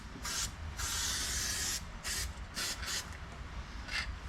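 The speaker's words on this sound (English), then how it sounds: "since I have to spray this" Spray adhesive hisses from a can in bursts while foam padding goes into a 1971 Volkswagen Super Beetle, several long and short sprays close to the microphone with brief pauses between them.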